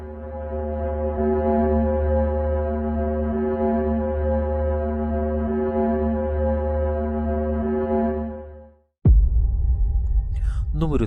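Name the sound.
sonified sound of planet Venus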